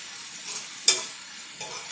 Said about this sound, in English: so we're going to get that nice and brown, stir it around